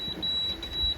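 A sailboat's AIS dangerous-target alarm gives a thin, high electronic tone that pulses in short repeated beeps across the whole second, over faint low background noise.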